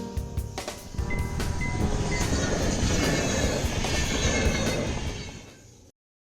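An SJ EuroNight sleeper train at Stockholm Central station, a loud rumbling rush with faint clicks that fades out toward the end, with no talking.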